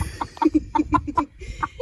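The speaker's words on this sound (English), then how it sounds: "You got a rooster. A bantam rooster." A bantam rooster clucks in a quick run of about eight short, bright calls with brief pauses between them, close by and fairly loud, with no talking over it.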